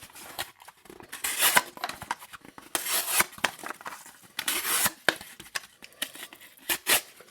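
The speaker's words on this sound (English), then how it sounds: "Also slices the cardboard really well" A Divo Chaser pocket knife held in a forward choke grip slices through cardboard in a run of short, close, scratchy rasping strokes with brief pauses between them.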